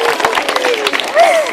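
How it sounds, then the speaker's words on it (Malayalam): Children clap in a primary school classroom during a game show, a brief burst of scattered claps mixed with voices. "ക്ലാപ്പ് ചെയ്തേ."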